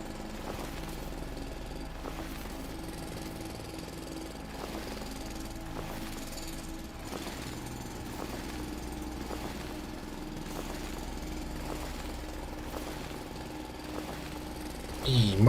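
A hand drill mining rock in the video game Foundry, a continuous rapid chattering buzz with regular pulses over a low engine-like drone, steady for many seconds, with talk in the background.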